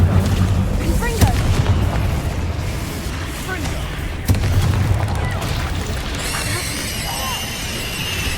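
Booming spell explosions from the Confringo blasting charm in the video game Hogwarts Legacy, a steady rumbling barrage with sharper bursts near the start and middle, over continuous battle noise, with a shimmering magical tone rising toward the end.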